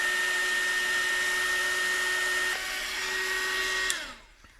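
Hair dryer blowing on wet crepe paper, a loud steady whirring roar with a constant whine that runs for several seconds, briefly changes pitch, then winds down and stops near the end.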